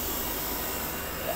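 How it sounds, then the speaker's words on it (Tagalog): An air conditioner blower motor runs with the evaporator compartment opened, a steady, loud whirring drone with a broad airy hiss and constant level, nothing else audible. "blower motor"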